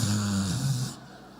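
A voice imitates a loud, drawn-out snore of a big-headed person sleeping beside him during a long trip from Bogotá: one droning, nasal snort that fades out abruptly, heard alone and up close.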